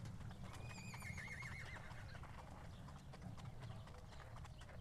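An Icelandic horse, a tölter, gives a clear rising and falling whinny near the start while its hooves clop steadily throughout, faint and at a distance, over a low rumbling background.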